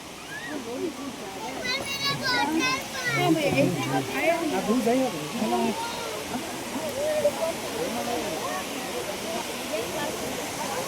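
A waterfall in Coorg gives a steady, full rushing roar of falling water at a crowded tourist spot. Voices talk over it throughout, including children.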